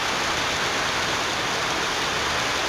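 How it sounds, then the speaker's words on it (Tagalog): Heavy typhoon rain pours down steadily as a dense, even hiss with no break, fairly loud and close, with no voices over it. "Hanggang ngayon, umuulan pa rin po dito sa amin."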